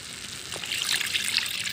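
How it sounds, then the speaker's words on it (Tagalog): Water poured into a pot of pork hamonado, a steady trickling splash that rises slightly and continues alone at moderate volume. "So ngayon ay lalagyan na natin siya ng tubig."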